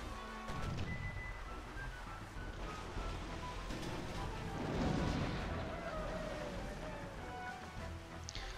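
Cannon fire in the naval combat of the video game Sid Meier's Pirates, a broad rumbling barrage with a swell of booming blasts midway, heard over continuous wind- and sea-like ambience.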